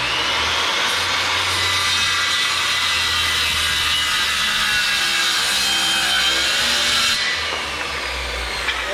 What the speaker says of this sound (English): This is just a 7 1/4 inch Makita saw.